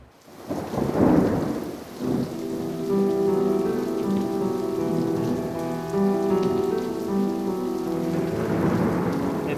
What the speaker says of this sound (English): It's raining on and off today.